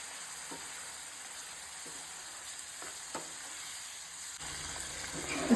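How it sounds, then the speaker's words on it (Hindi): Tomato puree is poured into hot spices in a cooking pan, and a loud, steady sizzling hiss runs throughout, with a few soft stirring knocks and a sharper burst near the end. "तो मसाले जलने लगे, इससे पहले जो है ना हम इसमें डालेंगे टोमेटो प्यूरी।"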